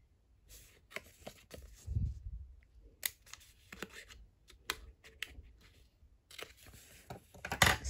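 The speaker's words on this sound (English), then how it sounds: "I'm just going to angle cut these at the bottom just to make it easy to fold" Scissors snip at an angle through paper while a small paper pocket for a mini journal is being made: a string of close, crisp cuts and rustles in uneven rhythm, quiet and without talk.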